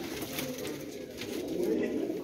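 Pigeons at a Jhelum pigeon loft coo softly in low murmuring tones, a continuous close hum of calls with faint background noise and no speech.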